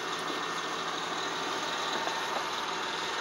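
A Caterpillar D6T bulldozer idles steadily close by, its engine a continuous broadband drone with a low rumble and no rhythmic change across the clip.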